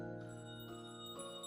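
Bells chime in the distance in the game Honkai Impact 3rd, sustained ringing tones layered and fading, soft and unbroken with a fresh strike near the end, no speech.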